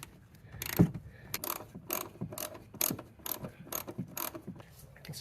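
Ratcheting clicks of a torque wrench preset to 30 newton-metres tightening new 13 mm bolts during a lift kit install on a Volvo Cross Country, a series of close, crisp mechanical bursts with short pauses between them.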